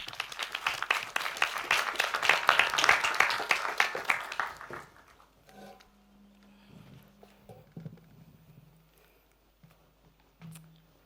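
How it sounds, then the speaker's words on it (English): Audience at a doctoral research talk competition final breaks into loud, dense applause for about four seconds, then it fades into a quiet room with faint low hum and a few scattered noises. "Give a warm applause."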